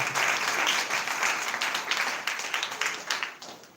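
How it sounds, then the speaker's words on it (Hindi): Church congregation at a Sunday meeting claps heartily together, a dense, loud wash of applause that gradually thins into scattered, fading claps toward the end. "जोरदार ताली जाकर धन्यवाद दो।"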